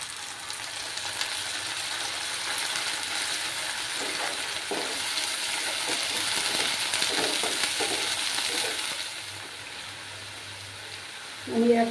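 Onions frying in a pan give a steady, moderately loud sizzle throughout, with a few brief stirring scrapes and a louder burst right at the end.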